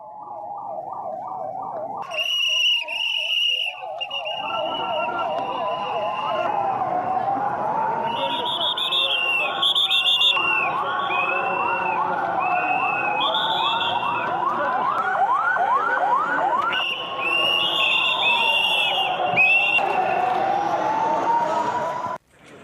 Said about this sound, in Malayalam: തൃശൂർ ജില്ലയിലെ 2 സ്ഥലങ്ങൾ സംസ്ഥാനത്ത് നടന്ന സിവിൽ ഡിഫൻസ് മോക്ക് ഡ്രില്ലിന്റെ ഭാഗമായി കയ്പമംഗലത്തും സൈറൺ മുഴങ്ങി